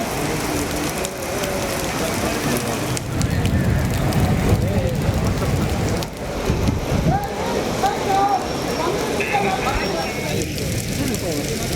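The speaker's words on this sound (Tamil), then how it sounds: "இந்த நிலையில் இடி மின்னலுடன் கனமழை பெய்தது" Heavy rain falls in Saudi Arabia as a continuous, loud wash of patter and hiss, while a voice speaks over it.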